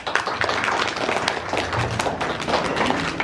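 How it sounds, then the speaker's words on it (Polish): Warm audience applause at a grandparents' day school show, steady dense clapping filling the whole stretch at even loudness with no pauses. "Gorące brawa."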